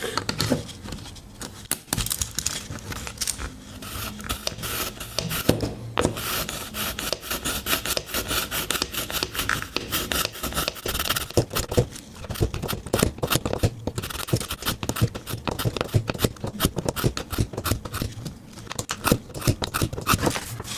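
A Victorinox Swiss Army knife blade is drawn steadily across a ceramic sharpener, giving a continuous close rasping and scraping with rapid repeated strokes for about twenty seconds, no talking.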